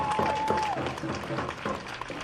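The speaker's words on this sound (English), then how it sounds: "let's just give ourselves a round of applause" A crowd at a Black Lives Matter rally in Kelowna breaks into applause, a rough, continuous patter of clapping with scattered cheers and voices mixed in.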